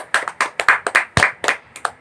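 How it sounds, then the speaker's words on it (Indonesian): A primary-school class in an Indonesian lesson claps for a student: about a dozen sharp, evenly spaced claps in a brisk rhythm, near and clear, with no talking over them. "tepuk tangan untuk Aisyah"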